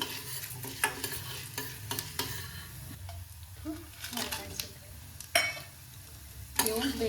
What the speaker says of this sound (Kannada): ಕಲರ್ ಚೇಂಜ್ ಆಗೋವರೆಗೆ ಎಣ್ಣೆಯೊಳಗೆ ಫ್ರೈ ಮಾಡ್ತೀನಿ